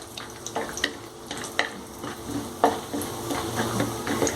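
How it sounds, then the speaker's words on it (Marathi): Turmeric root pieces fry in hot oil for a chilli lemon pickle, producing a continuous moderate sizzle with occasional clinks and stirring scrapes close by. "तेल थोडं तापल्यानंतर आपण हळकुंड घेतलं तर त्या हळकुंडच्या अशा फोडी करून घ्यायच्या मंद हे तळायचं"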